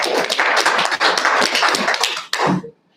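A small group at a county board workshop claps in a brisk, uneven burst that lasts a few seconds and then stops abruptly.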